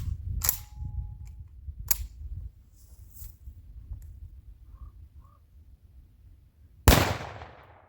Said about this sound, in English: we'll load it in the magazine and shoot it again